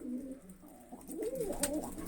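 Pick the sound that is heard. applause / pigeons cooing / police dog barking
pigeons cooing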